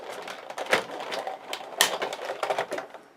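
A Big Shot die cutting machine is hand-cranked with a cutting pad, giving a series of soft clicking, ratcheting clacks at an uneven pace, fairly quiet and close, with no talk.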